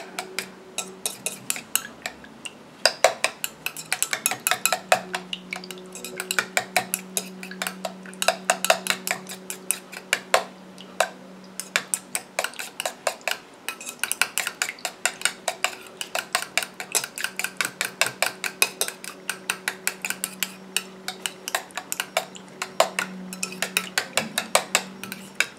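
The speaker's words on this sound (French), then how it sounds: "Je viens mélanger." An aloe vera face mist mixture is stirred in a small container, producing rapid, regular clinking taps of a utensil against the sides, close and crisp, continuing without pause and with no talking.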